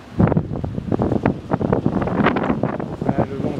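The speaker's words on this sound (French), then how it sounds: "le vent vient d'ici" Strong westerly wind buffets the microphone at a seaside port on Réunion, loud gusty rumbling bursts filling the short stretch, with surf and a possible faint voice underneath.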